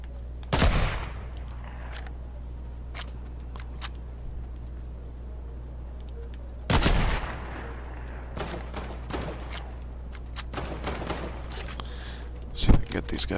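Sniper rifle shots ring out in the video game Fortnite, two loud, isolated cracks spaced several seconds apart over a steady low hum, followed by lighter clicks and a final sharp shot.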